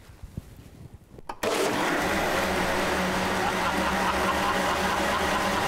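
A plant milk maker machine starts up abruptly after a quiet moment and then blends nuts or oats with water into milk, settling into a loud, steady, dense whir that runs to the end.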